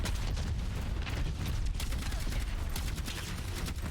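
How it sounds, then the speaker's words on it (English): Dense barrage of rocket explosions and gunfire in an Overwatch-style team shooter match, continuous loud booming and crackling blasts layered thickly throughout with no pauses. "Rocket barrage incoming."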